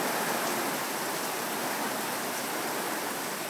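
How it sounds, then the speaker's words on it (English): Heavy rain pours hard and steady during a thunderstorm, a dense, continuous hiss of water with no pauses, loud and close throughout. "Only thing that's severe is the rain and how hard it falls."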